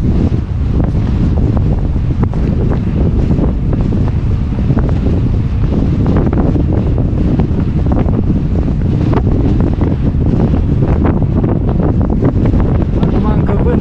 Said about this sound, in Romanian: Acum încă vântul mi-e în față